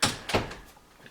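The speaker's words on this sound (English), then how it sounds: "Let me close the back door." A back door swings shut in an abandoned basement with a couple of soft thuds, the first sharp and close, then a quieter knock and faint rattle settling afterward.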